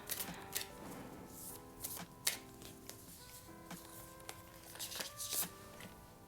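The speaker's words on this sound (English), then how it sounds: "Let's go ahead and shuffle from here." Tarot cards being shuffled by hand: a string of crisp riffles, flicks and soft taps at uneven intervals, quiet and close, with occasional sharper snaps and thin tonal hums in the background.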